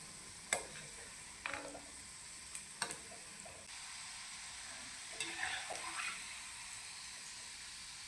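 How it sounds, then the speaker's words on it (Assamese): Puli pitha frying in oil in a wok: a faint, low sizzle with a few soft stirring clicks and scrapes scattered through, no voices. "পিঠাকেইটা চাৰিওফালে ভাজ খোৱাকৈ ভাজি ল'ম"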